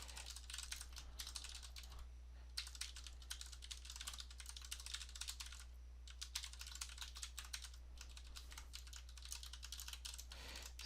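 Rapid bursts of computer keyboard typing while writing Angular test code, close and fairly quiet, with short pauses between flurries of keystrokes over a low steady hum.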